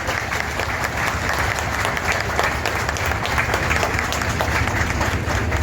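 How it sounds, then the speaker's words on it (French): A crowd applauds steadily and loudly at a ceremony honouring a new director general of customs, dense clapping sustained throughout with no break. "Vos applaudissements,"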